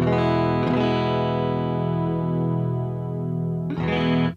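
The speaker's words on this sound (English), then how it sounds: "More chorus, less chorus, no chorus." Sustained distorted electric guitar chords ringing out with a shimmering, wavering chorus effect from a rack unit blended in parallel through an analog mixing board, a new strummed chord struck near the end.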